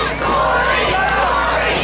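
A loud, dense wrestling crowd at a West Virginia street fair chants in unison to rally a wrestler, a steady roar of many voices filling the whole moment.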